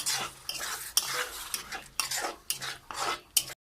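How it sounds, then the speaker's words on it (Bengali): Tomato paste frying with spice paste in a pan, stirred in quick irregular strokes that scrape and clatter over a soft sizzle, each stroke sharp and close, ending abruptly. "এবার এর মধ্যে দিয়ে দেবো টমেটো পেস্ট। এটিকেও ভালো করে কষিয়ে নেব মশলার সঙ্গে।"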